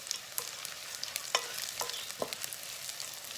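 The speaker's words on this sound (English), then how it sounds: "braise the onion until almost burning point" Onions fry in a pan until nearly burning, a soft, crackly sizzle broken by a few sharp stirring scrapes and clicks, fairly quiet with no voices.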